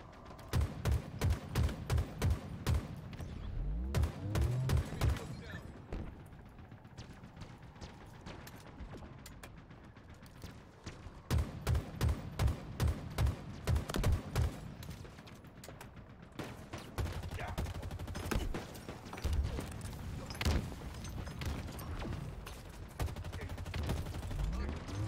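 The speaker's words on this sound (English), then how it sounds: "Who's shooting at me?" Halo gunfire in sharp, evenly spaced bursts of rapid shots, with loud volleys broken by brief pauses. A voice speaks now and then between the shots.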